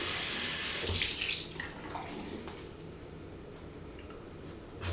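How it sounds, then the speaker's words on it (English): Hot water runs from a bathroom tap into a sink, a steady close splash with brief bursts and drips as hands move under the stream. "turn on some hot water."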